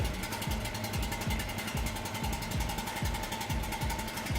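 GRAD petrol generator engine running steadily after a cord pull-start, a fast regular putter with repeated low thumps and a steady mechanical hum, close and continuous with no pause.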